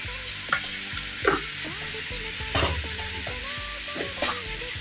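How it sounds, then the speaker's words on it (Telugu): Country chicken pieces with salt and turmeric fry in a pan, giving a steady sizzle broken by several sharp stirring scrapes spaced through the clip, close and fairly loud, with no talking. "మొత్తం బాగా ముక్కకు పట్టేలాగా ఫ్రై చేసుకుందాము"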